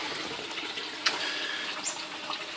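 Water pours steadily into a gravel-filled aquaponics grow bed, a continuous hissing splash with a few brief drips and trickles on top, fairly quiet and without voices.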